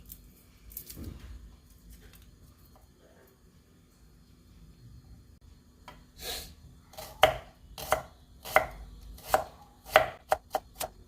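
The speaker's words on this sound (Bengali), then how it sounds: "চাকু দিয়ে আমি সব কাটতে পারি।" A knife chops food on a board in a home kitchen while chicken kosha is being made. A few soft knocks come first, then a quicker run of about ten sharp, close chops, each one a distinct loud hit.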